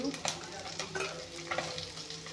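Bhangon fish fries in a hot pan for a sour fish curry, giving a close, steady sizzle with stirring scrapes and light pops throughout.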